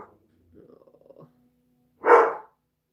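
A dog gives a single loud, close bark near the end, following quieter growling and muffled vocal sounds indoors by a window.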